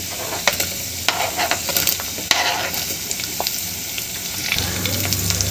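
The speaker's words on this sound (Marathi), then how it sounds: "आता कांदा छान परतून घ्यायचा आहे." Onion frying with curry leaves and ginger-garlic paste in a pan for matki usal, making a loud continuous sizzle broken by repeated scraping and tapping as it is stirred, with no talk.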